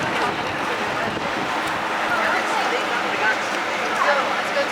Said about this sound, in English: It's a little windy today.